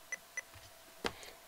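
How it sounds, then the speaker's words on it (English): Two short electronic beeps from a macro Morse keyer as its function key is held to backspace, then a louder click or knock near the end; quiet and close with nothing else in the room. "I'm going to hold the function key down for 3 beeps, and it will backspace and remove my error"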